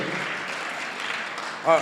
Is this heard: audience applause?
yes